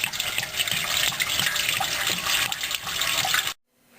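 Radiator coolant drains from a disconnected hose during engine removal on a 1970 Chevelle: a steady, fairly loud rush of pouring liquid runs continuously for about three and a half seconds, then stops abruptly.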